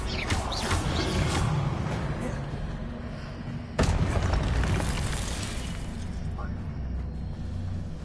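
A Confringo fire spell explodes in Hogwarts Legacy with a sudden heavy boom partway through, followed by a rumbling burst and crackle over dense game ambience, with a voice speaking over the din.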